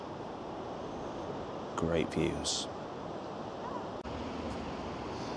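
Sea waves lapping on Blackpool beach make a steady, broad wash under wind noise, with a voice speaking briefly near the middle.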